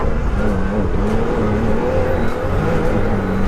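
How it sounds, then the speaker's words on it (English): Can-Am Maverick R side-by-side running in two-wheel drive, its engine droning loud and close with wavering revs and steady roar as it drives. "this thing's ripping in two-wheel drive right now"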